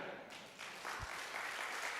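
A church congregation breaks into applause during a sermon, building from a faint start into a soft, spread-out patter of many hands heard from a distance, with a single low thump partway through.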